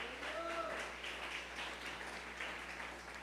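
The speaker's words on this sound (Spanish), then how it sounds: "Dele palmas al Señor." Congregation in a church clapping together, a steady broad wash of applause, moderately faint and reverberant, continuing throughout with a voice briefly over it.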